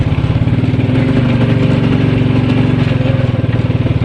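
A 2001 Suzuki King Quad 300 ATV rolls along in third gear, its single-cylinder engine thumping in a fast, even, close rhythm at steady loudness.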